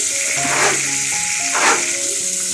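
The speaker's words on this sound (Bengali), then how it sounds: "খুব কম তেলে ভেজে নিচ্ছি" Shrimp and winter vegetables frying in a small amount of oil in a pan, a steady dense close sizzle throughout with faint stirring, no voices.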